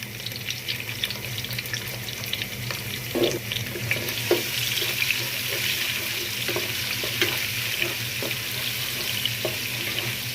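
Whole spices such as bay leaves, cardamom and cinnamon go into hot frying oil along with chopped onion for pulao, giving a steady, close sizzle with scattered crackles and soft stirring clatter and no talking.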